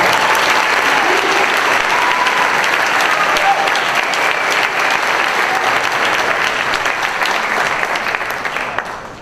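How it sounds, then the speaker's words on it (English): A crowd at a school sports awards ceremony gives award recipients long, steady applause, loud and even before tapering off at the end, with faint voices mixed in. "Let's give these gentlemen a round of applause"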